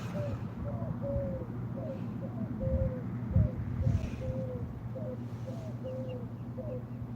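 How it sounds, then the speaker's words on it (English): An owl calls outdoors with a steady series of soft, repeated hoots, rhythmic and somewhat distant, over a low background hum with a few brief louder thumps partway through. "Sound like a owl over there or something."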